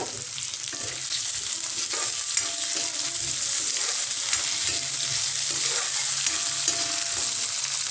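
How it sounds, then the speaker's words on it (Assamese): Potatoes and two green chillies half-fry in hot oil, making a constant bright sizzle up close, with occasional soft stirring knocks and no voices. "এতিয়া আলুখিনি প্ৰথমতে মই ভাজি ল'ম, আধা ভজা কৰিম"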